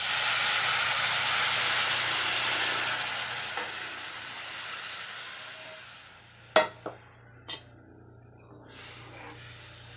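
Curry simmering in a pan after thin second coconut milk is poured in: a loud steam hiss and sizzle that slowly fades, then a few sharp scrapes and taps of a spoon stirring, with no voices.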